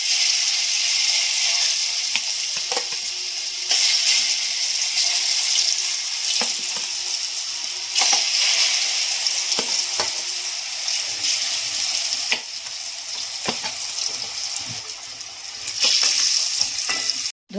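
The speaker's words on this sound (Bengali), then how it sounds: "এবার এই পিসগুলোকে আমি তেলের উপর ভাজবো।" Pieces of dhoka fry in mustard oil in a kadai, a loud, continuous close sizzle broken by scattered sharp pops and spatters for the whole stretch.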